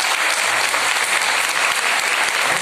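Audience applause fills a public meeting hall at the Constitution Club on Rafi Marg, New Delhi, where a finance minister is speaking: loud, dense, steady clapping that carries on unbroken without any voices.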